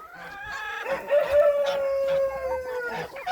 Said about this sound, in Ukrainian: гуси